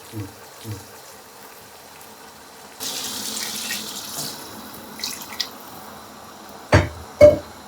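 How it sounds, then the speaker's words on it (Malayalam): Hot water pours into a pot of biryani for a few seconds, a steady hissing flow with a couple of louder splashy clunks near the end. "നമ്മൾ വെള്ളം ഒഴിക്കുക അതിനകത്തോട്ട് ചൂടുവെള്ളം"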